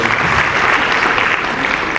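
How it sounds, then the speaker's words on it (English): A short burst of dense, loud audience applause follows a speech on democracy and carries on without a pause for the whole moment. "Another big round of applause."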